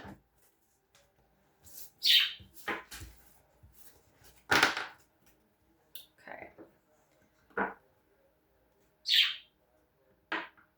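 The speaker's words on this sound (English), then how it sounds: "The birds are chirping for you and cheering you on." Outdoor birds chirp in short, bright bursts scattered irregularly through the stretch, fairly close and clear against a quiet background, while a person briefly speaks.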